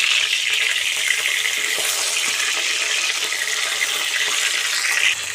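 Fish frying in hot oil in a pan for a village-style Odia fish curry, a steady bright crackling sizzle that runs unbroken throughout, close and without talk.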